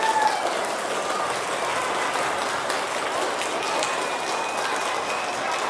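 Sustained applause fills a school auditorium as an audience at a fourth-grade performance claps to vote for a team, a continuous even roar of many hands from start to finish.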